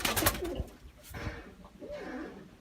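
Egyptian pigeons coo nearby in soft, rolling low calls, with a few rustles and knocks between the coos.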